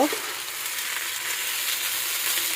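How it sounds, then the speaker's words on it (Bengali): Rice fries in a pot from a NIYAMA multicooker set before pulao is cooked, giving a steady, close hiss and crackle that holds evenly throughout. "সুন্দর করে আগে চালটা ভাজা ভাজা করে নিই, পরে পানি দিয়ে দিব"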